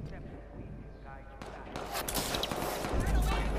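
Gunfire in the Watch Dogs 2 video game, a dense crackling burst of shots that grows louder and heavier toward the end, heard over ambient game noise.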